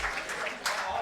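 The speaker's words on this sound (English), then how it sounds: "let's clap for Team Red" An audience claps for Team Red at a medical surgical-video conference session, a brief burst of applause mixed with voices and a louder surge midway.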